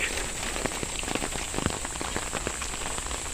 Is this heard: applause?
no